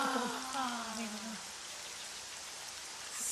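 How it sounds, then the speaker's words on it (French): Rain falling steadily in a children's cartoon scene, a soft continuous patter that lingers after a brief sung or voiced tone fades at the start. "il se mit à pleuvoir"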